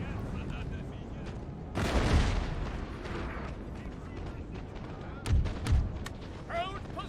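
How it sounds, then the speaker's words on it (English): Cannon fire in a Napoleonic-era battle in the Napoleon: Total War strategy game, with two loud booming bursts against a steady din of distant musketry and battle noise. "Gotta be careful of these cannonballs flying everywhere."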